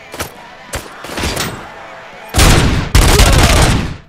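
Gunfire in the video game RoboCop: Rogue City, with a few scattered shots early on followed by loud sustained bursts of rapid fire filling the second half, and a voice briefly heard between the shots.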